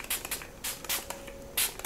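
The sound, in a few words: e.l.f. setting spray being sprayed on face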